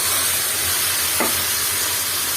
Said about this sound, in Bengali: আর এখন এটাকে আমি এখন ভালো মতো নেড়ে চেড়ে দিব